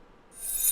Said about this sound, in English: So we have a little coin reverse,